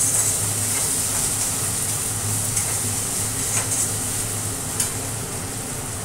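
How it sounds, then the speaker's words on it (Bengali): Garlic and ginger frying in a pan, a steady close sizzle with light stirring scrapes throughout, no voices. "রসুন আদাটা পুরো ভালো করে ভাজা হয়ে গেছে"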